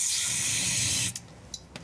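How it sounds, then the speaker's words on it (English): Brake cleaner sprays from an aerosol can into a Suzuki Samurai differential, a loud steady hiss lasting about a second before cutting off, followed by a few faint clicks and short bursts. "And maybe spray some brake cleaning to flush it out."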